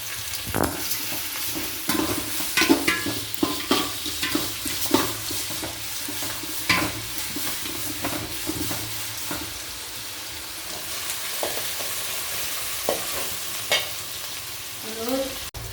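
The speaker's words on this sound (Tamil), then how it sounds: "வெங்காயம் நல்லா வதங்கிடுச்சு" Onions sautéing in a pan with rock salt give a continuous sizzle broken by repeated, irregular spoon scrapes and stirring knocks, close and fairly loud.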